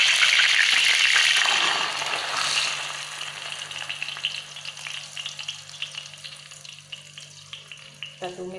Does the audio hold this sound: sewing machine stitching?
no